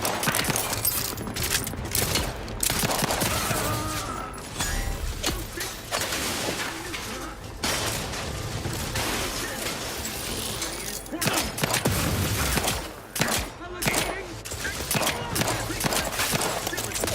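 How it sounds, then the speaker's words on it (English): Gunfire in The Outer Worlds 2 during a firefight at Horizon Point Station, with rapid loud shots and crashing impacts that go on almost without a break. "start shooting"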